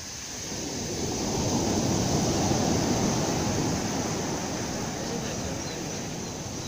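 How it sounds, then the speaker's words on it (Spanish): Ocean surf on a cloudy day at Caleta beach in Acapulco: a continuous, rolling roar of breaking waves mixed with wind buffeting the microphone, with no clear voices. "pero mira las olas"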